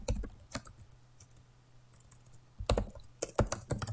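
Typing on a computer keyboard, with clusters of crisp, close key clicks at the start and a dense burst of rapid keystrokes near the end, separated by a quieter pause with low hum.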